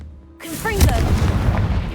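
A Confringo blasting spell from Hogwarts Legacy goes off in a sudden loud burst, with short whooshing spell tones followed by a sustained rumbling blast that fills the remaining second and a half.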